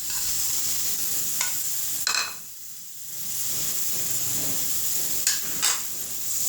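Semolina roasting in a pan with freshly ground coconut for halwa, a soft continuous sizzle broken by a few sharp scrapes and clinks of a spoon against the pan, with a brief quieter gap midway.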